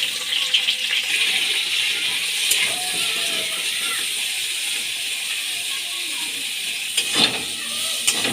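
Cauliflower florets and potatoes frying in hot mustard oil, a steady bright hiss and crackle held close throughout, with a few faint clinks.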